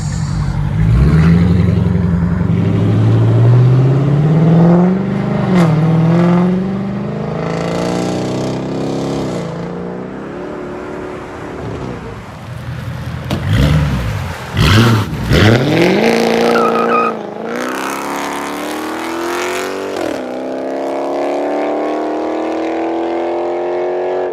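A car engine roars and revs hard several times, pitch climbing and falling with each push of the throttle, loud and close.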